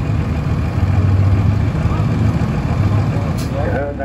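A heavy vintage engine runs steadily at close range at an outdoor county show, a loud continuous rumble with a faint squeal near the end.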